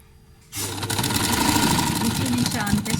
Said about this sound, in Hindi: इसी निशान पे सिलाई लगेगी।